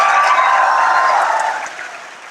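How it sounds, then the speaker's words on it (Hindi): A large audience of students at a motivational session applauds loudly, a dense, steady wash of clapping that tapers off toward the end. "जोरदार ताली बजाइए एक बार इन सबके लिए।"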